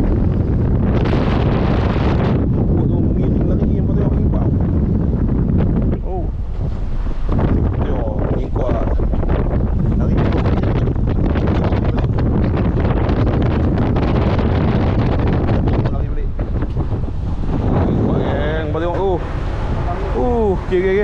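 Strong wind roaring across a microphone on a boat at sea while fishing, a loud continuous buffeting that swells and gusts for about twenty seconds, with water noise and muffled voices underneath.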